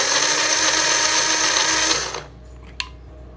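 A small mini mixer grinder whirs loudly and steadily while blending two tomatoes into a paste, then winds down abruptly and stops, leaving quiet with one faint clink.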